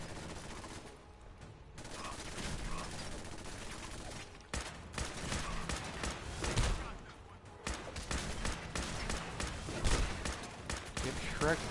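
Gunfire in Fallout 4 in survival mode, rapid bursts of shots and fusillades with impacts, loud and close over game sounds, with someone talking at points.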